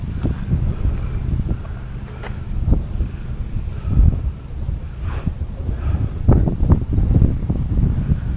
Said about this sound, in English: Whew, it's a windy one.